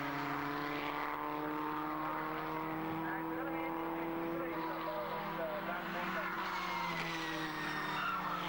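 Racing cars passing at speed on the Mallory Park circuit, their engines a steady, sustained roar that rises and swells as they go by, with a commentator talking throughout.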